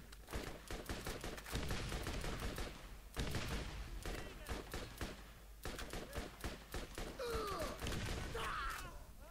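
Repeated weapon fire in the shooter game Borderlands, bursts of rapid shots with thuds and impacts, loud and close, while someone talks over much of the action.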